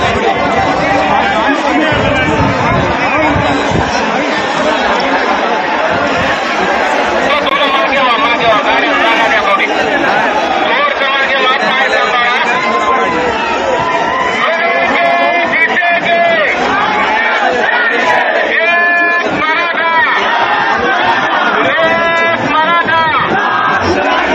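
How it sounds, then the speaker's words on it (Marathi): A large crowd of Maratha community members at a rally in Hingoli, loud continuous chatter, shouting and cheering packed close throughout, with a voice speaking amid the roar. "परंतु हिंगोलीमध्ये जे आहे ते अभूतपूर्व ही गर्दी आहे मराठा समाज बांधवांची"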